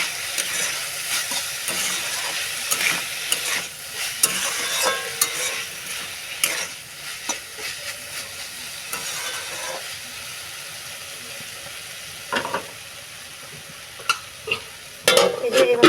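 Steady sizzling of vegetables frying in a hot wok, with scraping and stirring clatters breaking through now and then, no voices.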